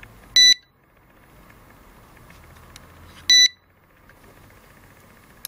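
An NGT fishing bite alarm gives two short bursts of high electronic beeps about three seconds apart, loud and close, with quiet between them.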